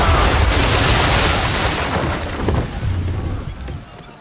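Gunfire from ship cannons during a naval ambush in Assassin's Creed III, a dense rumbling barrage of booms that stays loud and continuous before tapering slightly, with faint voices underneath.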